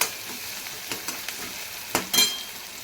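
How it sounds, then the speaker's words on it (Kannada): Soft, steady sizzle of ingredients frying in a pan for North Karnataka potato sambar, broken by a few sharp scrapes and clatters of stirring, fairly close with no voices. "ಇದು ಚೆನ್ನಾಗಿ ಹುರ್ಕೋತೀನಿ"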